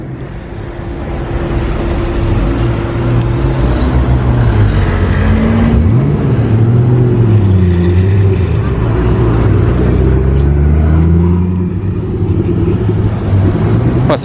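Convoy of supercars including a Ford GT, Aston Martin DBS, Ferrari GTC4, California T and BMW i8 pulling away in Monaco, deep rumbling engines rising and falling continuously, fairly close, with people talking over them.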